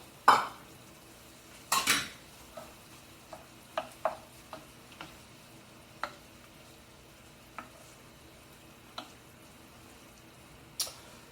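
A pre-cooked, chilled ingredient being mixed in a pot, with a few sharp utensil knocks against the metal and a series of lighter, spaced clinks over faint background noise.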